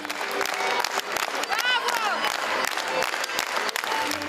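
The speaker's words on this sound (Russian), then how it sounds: "По завершении спектакля поклонники театрального творчества еще долго аплодировали актерам." Theatre audience applauding actors at the end of a play, dense steady clapping from a crowd heard with a voice talking over it.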